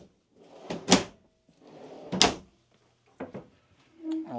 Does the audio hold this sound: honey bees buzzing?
no